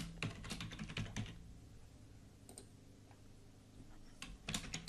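Computer keyboard keys tapped while a password is entered during a Windows 10 setup in VirtualBox, quick clustered clicks at the start, a sparse pause, then another short burst, close and fairly quiet.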